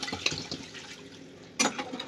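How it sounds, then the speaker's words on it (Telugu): Water poured into a cooking pot of fried chicken pieces for haleem, a faint splashing pour with short bursts, the loudest gush near the end, no talk. "ఇప్పుడు ఇందులో ఈ ముక్కలు ములిగేలాగా వాటర్ అయితే వేసుకోవాలి."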